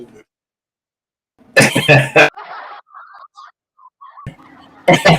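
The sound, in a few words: coughing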